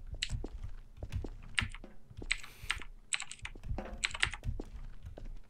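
Computer keyboard keys get pressed in quick irregular bursts during a Deathrun game, sharp close clicks and clatters with brief pauses between flurries and no talking.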